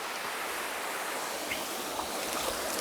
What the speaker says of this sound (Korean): 사람 손이 타지 않은 원시림 사이로 장쾌하게 흘러내리는 폭포의 모습에 무더위마저 순식간에 날아갈 듯한데요.